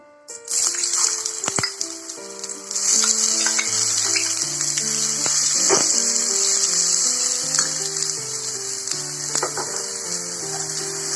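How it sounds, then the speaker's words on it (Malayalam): Chopped onion hitting hot oil in a pan sizzles steadily and loudly, a continuous frying hiss with occasional stirring clicks and soft scrapes over a faint background melody. "അത് നന്നായിട്ട് ചൂടായതിനു ശേഷം അരിഞ്ഞു വെച്ചിരിക്കുന്ന സവോള ഇട്ട് കൊടുക്കുക"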